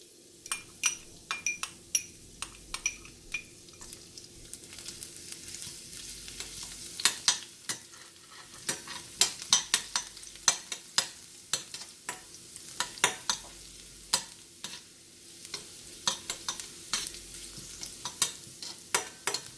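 Chopped garlic fries in two tablespoons of hot oil in a pan, a soft steady sizzle broken by frequent clinks and scrapes of a utensil against the pan, close and without talk.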